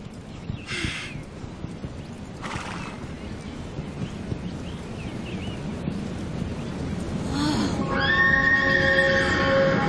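A horse neighs loudly near the end, a long quavering whinny after several seconds of wind and outdoor noise with brief higher bursts.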